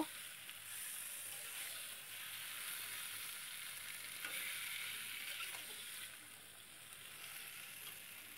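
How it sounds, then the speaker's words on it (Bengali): Chicken sizzles and fries in a small wok while being stirred, a steady close hiss with faint scraping strokes, fairly quiet and continuous throughout. "চিকেনটা দিয়ে একটু ভালো করে নেড়ে নেব।"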